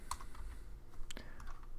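Quick, faint keystrokes tap on a computer keyboard in an uneven run of clicks lasting under two seconds, with no voice over them.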